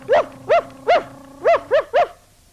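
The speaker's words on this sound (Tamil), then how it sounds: "பெல் குரைக்கிறது." A puppy barks six times near a road, each bark sharp, close and loud, spaced unevenly over about two seconds, with no talk.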